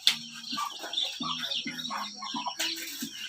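Chickens cluck in repeated short, soft calls at a moderate distance, with faint bird chirps and ambient outdoor noise around them and no talk.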